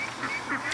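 A duck at a lake quacks in a few soft, nasal calls close by over steady outdoor background noise, ending with a brief higher squeak.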